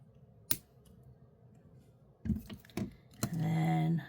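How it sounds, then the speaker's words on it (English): Wire cutters snipping excess wire while making beaded jewelry: one sharp close click, then a few softer clicks and handling noises. "Snip off the excess."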